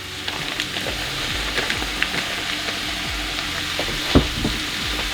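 Beef crumble and plant-based chorizo sizzle steadily in a pan, with scraping spoon strokes and occasional clinks as the mixture is stirred and broken up, close and fairly loud.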